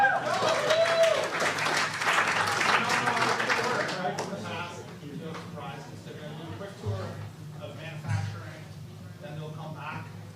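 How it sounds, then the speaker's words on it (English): A meeting crowd at a WTA gathering breaks into a big round of applause that starts loud and dense, then thins and fades over several seconds while people begin talking in the room. "Let's give ourselves a big round of applause."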